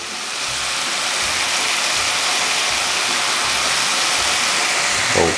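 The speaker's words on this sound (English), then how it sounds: "At naglalagay din tayo ng suka." White vinegar pouring into a pot of pork igado, a steady hissing liquid stream running continuously and evenly from start to finish, alone with no talking.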